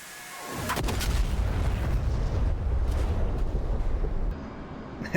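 A Paveway III bomb exploding on a weapons depot in the DCS combat flight game. A sudden loud blast opens into a sustained roaring rumble with crackling debris, then fades slightly before a final burst at the end.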